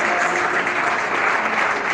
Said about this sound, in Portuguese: Palmas bem forte